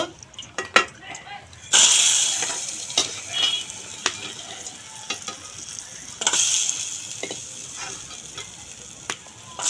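Nikhuti sweets being fried and lifted out of hot oil in a home kitchen, a steady close sizzle and bubbling with stirring clinks and scraping, swelling louder at intervals.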